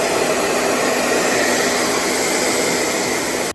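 A hair dryer blows hot air steadily onto a Hyundai badge on a car, a loud, constant whooshing roar that holds for several seconds and then cuts off abruptly at the end.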